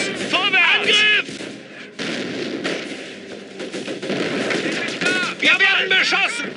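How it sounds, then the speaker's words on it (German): Gunfire and artillery fire in Company of Heroes, with heavy thuds and rapid shots going on continuously while German-speaking soldiers shout over the battle. "Wir werden beschossen."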